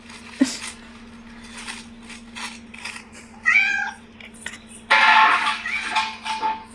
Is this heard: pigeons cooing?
no